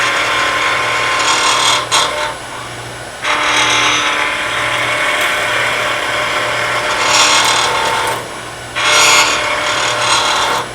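A skew chisel shaves a wooden pen blank spinning on a lathe, giving a steady rasping hiss with several louder bursts of cutting, close and continuous, no voices.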